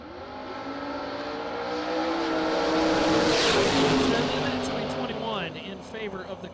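A Camaro drag racing car at a SuperBucks Showdown drag race launches and accelerates hard down the strip, a loud, sustained engine roar that swells and then fades, with a second car and an announcer's voice faintly underneath.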